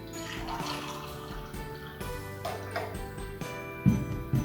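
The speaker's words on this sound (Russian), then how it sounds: "Наливаем в стакан." Warm homemade folk cough remedy poured into a glass, a soft liquid trickle with light clinks of glassware, fairly quiet and close, no talk.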